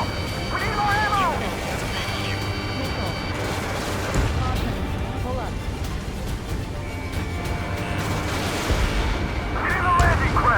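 Artillery and gunfire from a beach battle in the combat flight game Ace Combat 7: Skies Unknown, dense and continuous booms and rattling shots under shouted radio voices and a game music bed.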